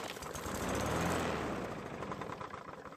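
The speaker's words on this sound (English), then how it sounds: "try to start it to see if the mower even runs" A Craftsman lawn mower engine, primed with fresh gas in the carburetor throat, cranks and catches, then runs with a loud, steady, rough chugging drone that swells early and holds without anyone talking.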